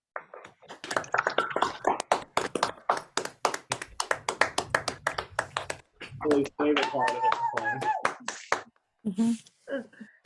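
Participants on an unmuted online holiday call applaud, with scattered, uneven claps and taps arriving in bursts from different microphones, broken by gaps and mixed with overlapping voices and brief chatter.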